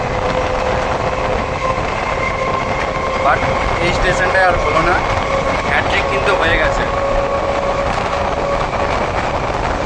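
A Sealdah–Diamond Harbour galloping local train runs with a continuous loud rumble and rail hum, heard from onboard while someone talks throughout.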